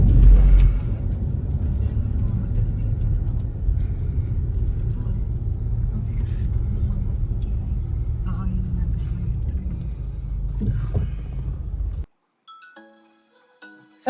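Steady low rumble of a taxi car driving in Phuket, Thailand, heard from inside the cabin under speech, continuous until it cuts off abruptly near the end.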